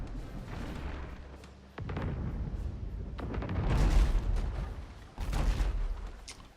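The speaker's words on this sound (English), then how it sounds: "Did my mortar shot even hit?" Mortar fire in the ship-combat game Abandon Ship: deep booming blasts and rumbling impacts in a few heavy bursts, loud and close, with no talking.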